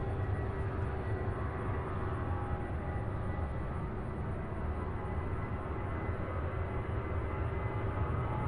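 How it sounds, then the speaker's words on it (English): A Southwest Boeing 737-700 departs Louisville on a south-flow takeoff, giving a continuous broadband jet rumble that stays level and unbroken with no voices. "This is Southwest Flight 1037 heading to Midway, Chicago, a 737-700."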